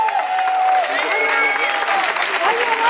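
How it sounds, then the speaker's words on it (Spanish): A large crowd of more than 500 people applauds loudly at a Zumba event held for International Women's Day. Dense clapping is joined by cheers, while an announcer's voice and music carry over the top. "fuerte el aplauso"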